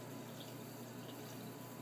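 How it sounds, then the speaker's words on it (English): Water runs from the faucet of a fancy-looking but low-quality hotel bathroom sink at Hotel Azura, a thin, steady trickle at low level, unbroken and heard alone. "You don't even get enough water out of this fancy looking sink to wash your hands."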